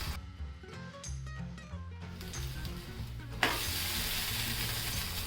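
Sabudana and bhagar thalipeeth roasting in oil on a pan, first with faint clinks and background music, then a steady close hiss of frying oil that stays loud and even.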